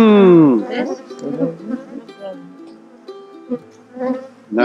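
Bees hum and buzz around a healthy colony at close range, with a loud tonal whine at the start and then shifting, uneven buzzing tones that rise and fade.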